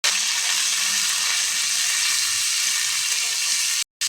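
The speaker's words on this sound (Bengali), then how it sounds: "ঘ্যাটকল বাটা তেলে দেবো, তাই সর্ষে তেল দিচ্ছি প্রথমে, সঙ্গে দিচ্ছি কালো জিরে, পাতা বাটা তেলে দিলাম" Ghatkol leaf paste fries in hot mustard oil with nigella seeds, giving a steady, loud hissing sizzle that continues throughout with only a brief cut just before the end.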